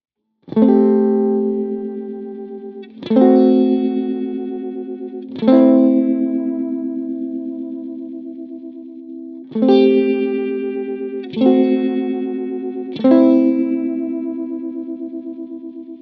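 Electric guitar run through a Line 6 Helix effect, its parameters swept by an expression pedal: six struck chords ring out alone, each swelling with a shimmering, distorted, chorus-like modulation and sustaining long before the next.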